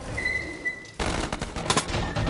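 Gunfire in the VR horror game The Inpatient strikes the player, with a burst of rapid, loud, close shots following a quieter stretch with a faint tone.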